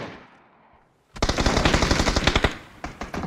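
Automatic gunfire in the battle royale video game PUBG: a loud, rapid sustained burst of shots after a brief quieter lead-in, followed by a few scattered single shots.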